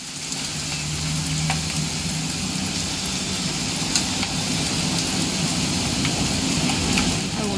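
Steady rain hisses in the video game What Remains of Edith Finch during a weekend hunting trip: an even, unbroken patter that stays constant throughout, with no voices over it.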